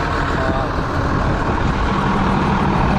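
A tractor engine idles steadily and close by in a farm field during corn and soybean planting, a continuous low rumble with no change in pace across the whole stretch.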